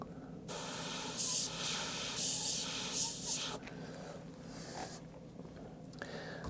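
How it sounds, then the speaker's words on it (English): An airbrush sprays paint in short bursts of soft, close hissing while the artist works on a wrinkled ace of spades design, with quieter pauses in between. "Here's where we move this way and we've got loads of overspray."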